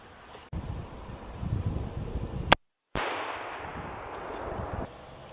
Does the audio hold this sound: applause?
no